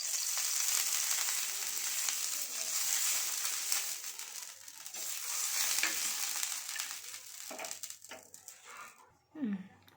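Bakshalu flatbread cooks on a hot oiled pan, giving a loud, continuous sizzle that swells and eases, with a few louder crackles toward the end and a faint voice in the background.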